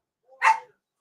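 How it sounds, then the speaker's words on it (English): A dog gives a single short, sharp bark, close by and alone against silence. "'Cause she's barking at us."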